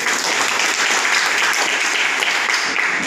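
An audience applauds a speaker at a seminar with dense, loud, continuous clapping. The sound holds steady for the whole stretch without fading, and no voices rise above it.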